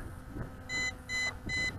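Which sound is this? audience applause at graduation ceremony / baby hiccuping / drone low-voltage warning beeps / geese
drone low-voltage warning beeps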